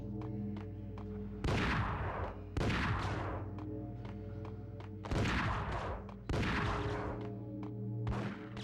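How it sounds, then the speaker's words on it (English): Enemy gunfire in the Max Payne video game, with several loud bursts of shots arriving in clusters against a steady game music bed, each burst sharp and booming before fading. "Where's this guy shooting me from?"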